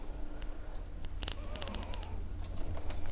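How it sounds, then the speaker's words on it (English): Someone types quickly on a computer keyboard nearby, with a run of soft irregular key clicks and a few sharper taps over a steady low background hum, and nobody talks. "Frantically typing away."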